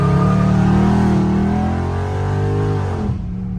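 A loud Dodge Charger Scat Pack sits close by with a deep, throaty engine roar that holds steady, then shifts pitch near the end as the car pulls away in a rich neighbourhood.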